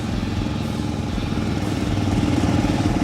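Kawasaki motorcycle engine running steadily close up with a tightened chain, giving a continuous loud mechanical whir and hum with no talk.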